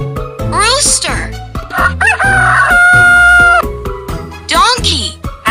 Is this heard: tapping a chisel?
no